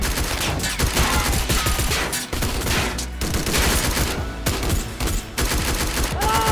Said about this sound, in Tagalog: mas Grabe yung barilan